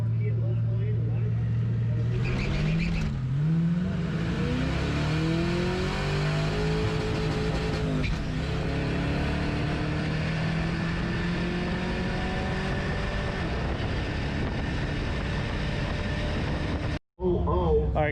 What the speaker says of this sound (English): We're literally going to race each other.